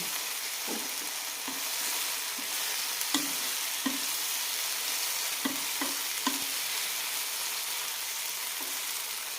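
Banana pieces in ghee sizzle steadily as the water cooks off, while a spoon stirs the pan with scattered scraping taps over the continuous frying hiss.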